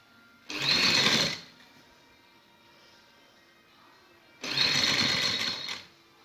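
A sewing machine stitches a border onto the slit of a shirt in two loud, steady bursts of about a second each, separated by a few seconds of quiet.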